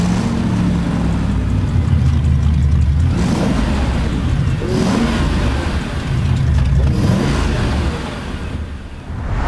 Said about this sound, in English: I take this car, start the engine, and the smile comes on my face immediately.